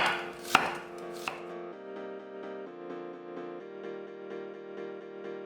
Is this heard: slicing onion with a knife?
yes